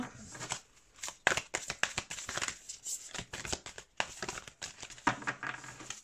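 A deck of oracle cards is shuffled up close in quick, uneven bursts of riffling and flicking, with short pauses between handfuls and soft slaps as cards settle.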